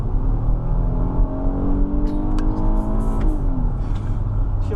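The V6 engine of a 2019 Kia Sorento EX AWD hums and climbs in pitch as the SUV accelerates, heard from inside the cabin as a steady, rising drone with road rumble beneath.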